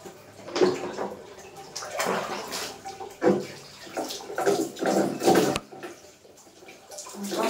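Water poured over the body while bathing in a bathroom, repeated splashing surges in an irregular rhythm, close and echoing off hard surfaces.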